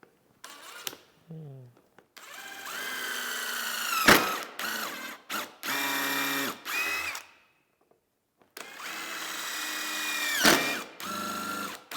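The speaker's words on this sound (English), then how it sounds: "I'm going to pre-drill and countersink them so that way when we're putting our screws in, the screws are flush." A power drill whines in repeated bursts as it pre-drills and countersinks wood boards, its pitch rising and falling under load, with short pauses and a brief gap between runs.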